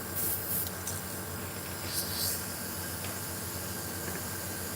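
Yellow spray paint hisses onto a white-primed Spook topwater fishing lure blank. A continuous, fairly soft broadband hiss runs the whole time, with slight swells in strength.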